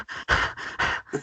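A man imitates a dog panting with his voice: quick, breathy huffs in a steady in-and-out rhythm, close and fairly loud, with no other sound.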